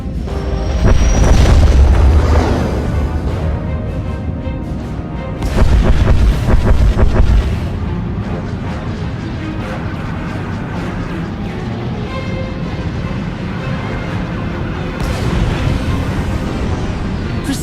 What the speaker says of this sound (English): Proceeding with bombardment